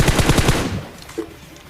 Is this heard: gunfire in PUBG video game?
yes